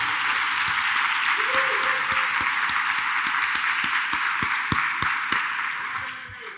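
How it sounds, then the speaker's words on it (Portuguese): Churchgoers at an online worship service applaud, a steady patter of clapping with a few sharp, close claps standing out over a constant background hum. "Dá uma salva de palmas para ele"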